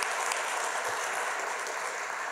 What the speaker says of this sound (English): We owe all of ourselves a round of applause for all of us who made it through the pandemic.